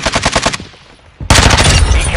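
Machine gun fire in a shooter video game: rapid bursts of gunshots rattle at the start, a brief lull follows, then a loud burst of gunfire and battle noise returns and continues.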